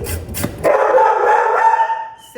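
A dog at home in a kitchen gives a single close, drawn-out bark that trails into a howl-like whine, following a couple of brief knocks.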